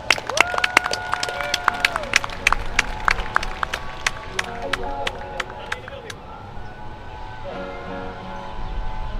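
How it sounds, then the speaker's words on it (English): A crowd in a Hawaiian coronation pavilion applauds Maka Gallinger with scattered, rhythmic claps over several seconds, mixed with voices and sustained tones, tapering off toward the end. "please give a round of applause for Maka Gallinger"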